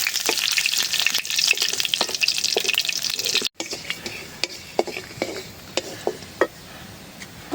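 Dried red chili and cumin seeds frying in hot oil, a loud continuous sizzle with scattered sharp crackles, briefly cutting out midway and then returning as quieter sizzling punctuated by spoon scrapes and clinks.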